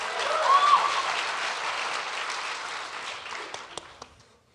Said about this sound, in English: Thanks for applauding, John.